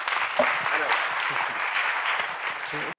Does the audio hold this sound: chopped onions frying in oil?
no